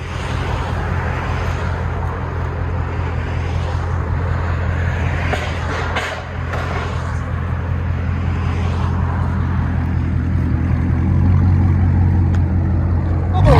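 A 2012 Chrysler 300 SRT8 with a 6.4L HEMI V8 and straight-pipe dual exhaust idles loudly and close, a deep steady rumble that swells as the car backs up, with no clear talk over it.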